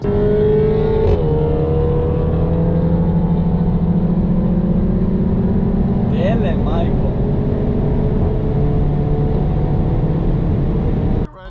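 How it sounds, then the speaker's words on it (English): A tuned stage 2 car with a Vortex XL races, its engine a loud, steady droning hum with strong layered tones that hold nearly constant, with a brief shift in pitch midway, before it cuts off at the very end. "Then I raced another stage 2 just to show him the difference with the Vortex XL."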